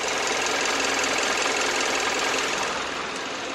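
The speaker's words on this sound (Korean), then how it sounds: "엔진 소음 먼저 들려드리면은" Hyundai Grandeur HG with a 2.4 GDI engine idling with the hood open, a steady, close, even ticking and knocking hum that stays constant, with a slight drop in level near the end.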